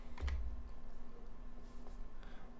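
Keys tap on a computer keyboard while a web page is built in Dreamweaver; a few separate, crisp keystrokes land at irregular intervals over a low steady hum.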